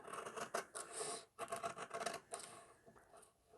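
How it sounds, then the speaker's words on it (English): Scissors snipping through a paper almanac journal template along a fold line, a quiet, close run of rapid crisp cuts and rustling with short pauses between strokes. "I'm going to cut across this line"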